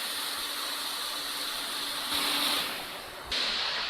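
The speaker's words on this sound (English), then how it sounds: "Turn on this water pump switch. Water will come out from the spring nozzle." A water recycling pump on a French fries production line sprays water from a nozzle, a steady loud hissing rush with two brief surges as the flow shifts.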